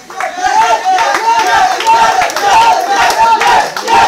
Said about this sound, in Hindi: भैया ताली बजा दीजिए